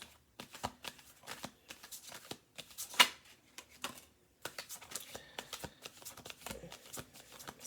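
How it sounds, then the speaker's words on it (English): A deck of playing cards being shuffled by hand during a card reading, with repeated riffling and ruffling bursts, a sharp snap near the middle and steady card handling throughout, close and moderately quiet. "We're going to do 2 more shuffles."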